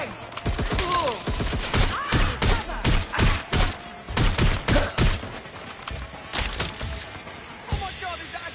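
Bursts of gunfire in the video game Watch Dogs Legion, rapid volleys of shots repeating through the scene with sharp cracks and thuds, while shouting voices and other game noise mix in.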